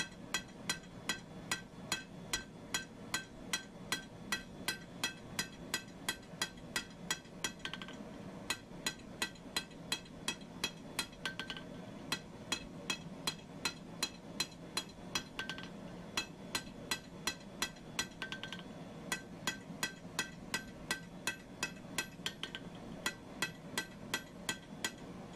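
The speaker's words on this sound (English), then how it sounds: "just by rounding it off on the anvil, it'll be pretty close to the final size I need it" Steel punch stock is hammered round on an anvil during forging, a long run of evenly spaced ringing metallic blows at a steady rhythm, moderately close and clear.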